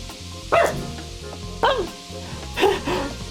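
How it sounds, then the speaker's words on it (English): Paige, a pet dog, lets out three sleepy, muffled barks with whimpering yips, spaced about a second apart. They sit over the steady sound of a video game playing in the background. "she barked herself awake"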